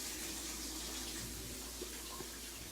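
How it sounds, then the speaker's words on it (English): A kitchen tap runs steadily while hands are washed beneath it during home baking, a constant close rush of water with faint splashes and no talking. "Let me wash my hands here."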